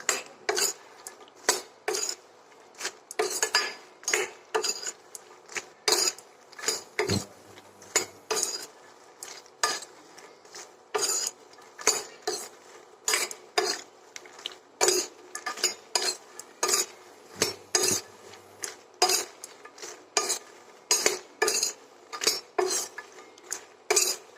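Sugar, cardamom, and almond and cashew slices being dry-roasted and stirred in a pan for makhana milk kheer, with a steady run of sharp metal spoon scrapes and clinks against the pan, close and regular throughout.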